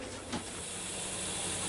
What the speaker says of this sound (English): we got a little bit of steam coming out from around the little silver button here